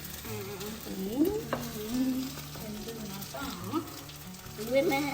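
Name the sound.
batter cooking and being stirred in a pan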